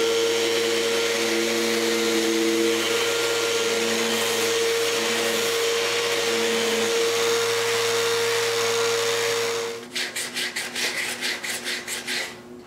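A wooden box being sanded: a loud, steady machine drone with a tonal hum for about ten seconds, then it cuts out into a series of rhythmic rubbing strokes.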